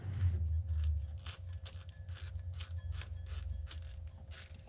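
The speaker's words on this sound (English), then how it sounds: "We're going to go ahead and start by tapping all of these holes here for the header bolts" Threads are tapped into header bolt holes for a Chevelle, giving a steady series of close, rhythmic metallic clicks and scrapes from the tap turning and ratcheting, with no talking.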